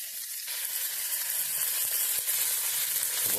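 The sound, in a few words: cashews and raisins frying in a pan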